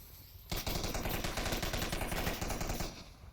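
Rapid automatic gunfire from the VR shooter game Onward bursts in suddenly and runs as a dense, continuous volley of loud shots, with no talk.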